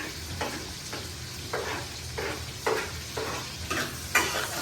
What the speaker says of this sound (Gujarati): વઘાર નાખી દેવી